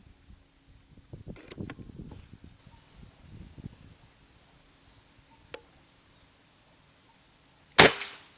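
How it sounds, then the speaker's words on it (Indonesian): Rustling and handling noises lead up to a single sharp, loud PCP air rifle shot near the end, after a brief faint click. "Lanjut ya, tembakan ke-6."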